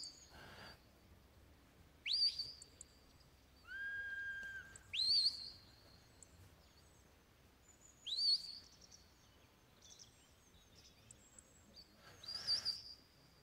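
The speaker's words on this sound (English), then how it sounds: "A few little check whistles there just to keep him walking slowly." Short, sharp shepherd's check whistles commanding a sheepdog at a trial, several brief high-pitched blasts spaced a few seconds apart across an open field, with quiet outdoor ambience between them.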